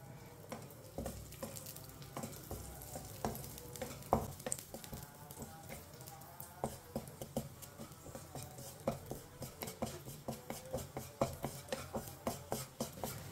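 Semolina browning in a pan while being stirred, a soft steady sizzle broken by frequent sharp scraping and tapping strokes of the spoon, close and moderately quiet, with no talking.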